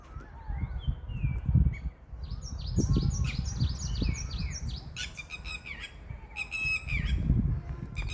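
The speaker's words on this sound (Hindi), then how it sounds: "चिड़ियाँ बोल रही हैं" Birds call near the Bawaman Mosque in Panchmahal, Gujarat, with loud, close squawks and chirps overlapping almost without pause, joined by rapid chattering calls midway over a low outdoor rumble.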